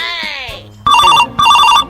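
An electronic phone ringtone plays loud and close in two repeating bursts, preceded by a brief voice.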